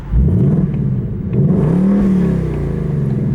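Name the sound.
Mustang GT exhaust revving in track mode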